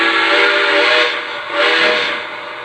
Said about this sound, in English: And now I'm back to the first whistle you heard.